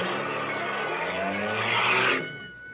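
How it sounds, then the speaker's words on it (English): A car engine on a railroad crossing sputters and runs roughly for about two seconds, then dies away, leaving a quiet hum behind. "You stalled the car."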